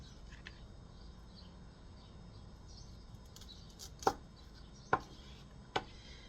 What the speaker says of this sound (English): It's difficult to cut with this because it is not made to cut.